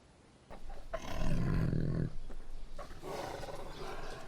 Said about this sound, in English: A lion's roar can be heard from 8 kilometers away.